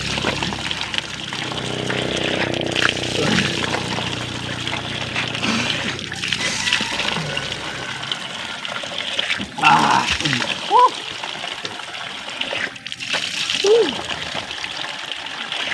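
Water splashes and sloshes up close in irregular bursts, with voices talking and calling over the splashing throughout.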